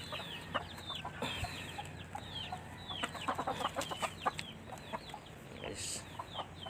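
A mother hen clucks steadily among her chicks, whose thin high peeps scatter throughout, set against a busy rural backyard with constant low background noise.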